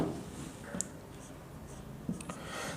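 Chalk or marker writes on a board during a class lecture, giving a few faint, scattered strokes and taps against a quiet room background.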